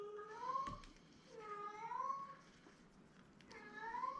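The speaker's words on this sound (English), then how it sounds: "Sorry if you hear my cat screaming in the background." A house cat yowls loudly in the background, three drawn-out, rising-and-falling meows spaced about a second and a half apart, fairly faint in the room with nobody speaking.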